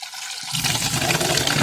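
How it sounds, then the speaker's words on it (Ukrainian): Well water pours into a barrel through an open valve in a drip irrigation setup, a steady close rushing fill that kicks in abruptly after a brief quiet start and continues without pause. "Зараз ось у мене відкрите на бочку, наливається."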